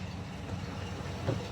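A 1949 Chevrolet Fleetline's old, sputtery, leaky engine runs with a low, uneven rumble, steady and rough throughout, heard from fairly close with no voices.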